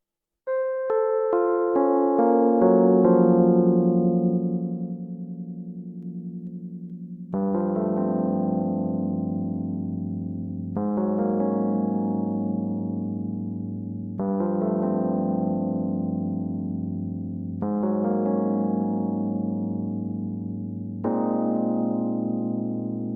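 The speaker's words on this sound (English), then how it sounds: "So I started with the electric piano from Lounge Lizard," Electric piano playing simple sustained chords, each struck and left to ring and fade, changing roughly every three to four seconds, alone with no voices.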